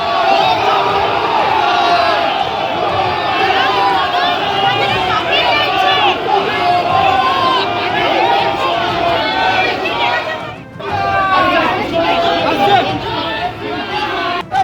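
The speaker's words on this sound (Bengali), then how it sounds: "প্রাক্তন মুখ্যমন্ত্রীকে দেখে চোর চোর স্লোগান দেওয়া হয়।" Crowd chanting 'chor chor' (thief) slogans at former chief minister Mamata Banerjee outside the Calcutta High Court: a dense, loud mass of shouting voices, continuous and agitated, with a brief dip near the end before the clamour resumes.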